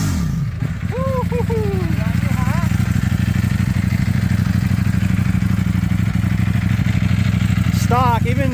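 A Ducati Streetfighter V4 with its stock OEM exhaust idles in a steady, loud, low rumble, with brief voices and small rising engine notes over the drone.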